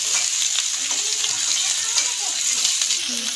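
Chopped bottle gourd tossed into a hot pan with cumin tempering sets off a steady, loud sizzle with light stirring scrapes throughout.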